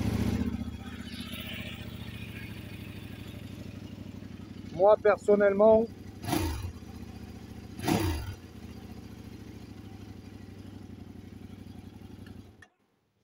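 A Kove 800X motorcycle with a noisy Chinese engine idles steadily with a low mechanical drone beneath someone speaking, then the sound cuts off abruptly near the end.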